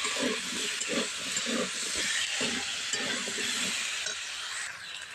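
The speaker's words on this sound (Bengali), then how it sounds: "টমেটো আর আলুটা একটু ভেজে নিচ্ছি" Potato and tomato pieces fry gently in a pan, giving a steady broadband hiss and sizzle with soft stirring scrapes through the middle, the hiss tapering slightly toward the end.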